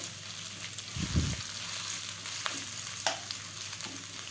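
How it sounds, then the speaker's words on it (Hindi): Shredded chicken frying in a pan for chicken resha karahi, a steady soft sizzle running throughout with a brief louder stirring burst near the start and a few light clinks. "अब हम इसको इस तरह से थोड़ी देर रखेंगे कि इसका रेशा जो है वो फ्राई हो जाए"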